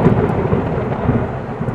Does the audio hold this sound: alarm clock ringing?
no